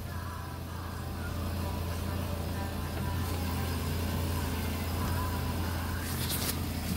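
A 2009 Honda Accord engine runs steadily just after installation, a constant low hum with a broad mechanical whir, moderately loud and continuous with no talk.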